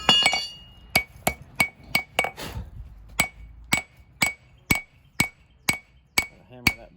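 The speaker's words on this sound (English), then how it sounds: "Gotta hammer that bevel as thin as I can with the hammer." A hammer strikes a knife bevel on an anvil to thin it, ringing metallic blows coming in a steady, evenly spaced rhythm of about a dozen close, sharp clinks with short pauses between them.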